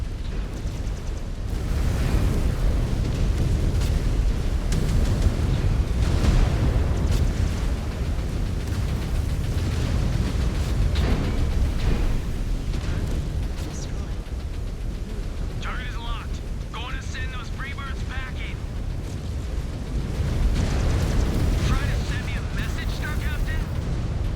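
Heavy booming explosions and weapon fire from mech combat in Mechwarrior 5: Clans during city fighting, a dense continuous roar with repeated blasts, while a player talks and game voice alerts sound over it.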